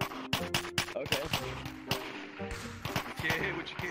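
Sharp, separate gunshots crack out in a multiplayer virtual-reality game during a police raid, spaced unevenly across a few seconds, with voices and game sounds between them.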